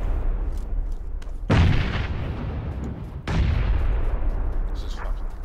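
Grenade blasts and gunfire in a video game: two loud booming explosions, each with a long decaying rumble, over a steady background of distant shooting.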